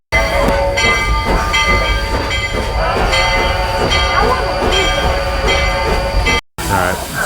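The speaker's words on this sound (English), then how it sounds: "Just because it's a steam train" A steam train pulls into Silver Plume station in the Colorado mountains with a loud, continuous rumble and tonal whistle-like hums, then breaks off briefly near the end.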